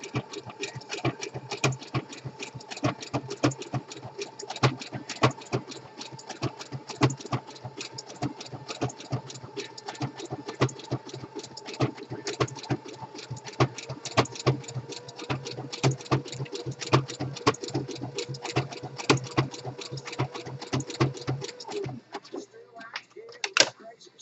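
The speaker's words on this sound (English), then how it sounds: "Let the machine feed the fabric." Sewing machine running decorative stitching on fleece for a casual jacket, with a rapid steady mechanical clatter of needle strokes continuing for the whole stretch, then slowing to a stop near the end.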